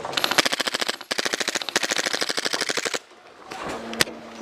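An airsoft tank's gun fires BBs in two rapid, loud bursts of closely spaced clacking shots, then stops, leaving quieter mechanical noise and a single sharp click.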